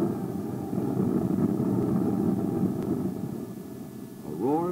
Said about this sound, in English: the desert calm was shattered by the roar of jet engines